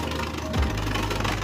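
A Winning Valkyrie Beyblade fitted with a Volcanic tip spins fast, giving a steady close-up whirring buzz with one brief thump partway through.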